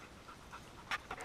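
A dog pants in quick, soft bursts close to the microphone at an off-grid cabin, with a couple of brief louder breaths near the end over a quiet, hissy background.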